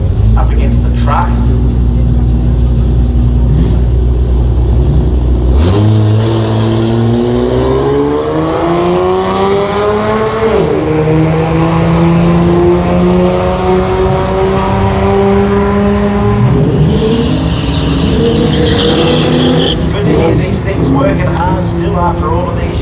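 At a Mopar drag racing event, an automatic six-cylinder full-bodied car and a pickup truck launch and accelerate hard down the strip, their loud engine notes climbing through gear changes and rising in pitch, with a voice talking over the roar.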